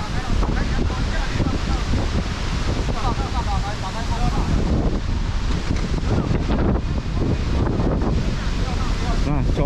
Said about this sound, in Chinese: 哇风好大